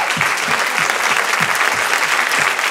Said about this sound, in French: Je vous demande d'applaudir encore une fois pour lui